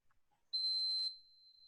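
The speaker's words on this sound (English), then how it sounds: "Oh, it beeps when you press it?" A single high electronic beep from a control panel button sounds for about half a second, clean and sharp, then lingers faintly as a thin tone in a quiet room.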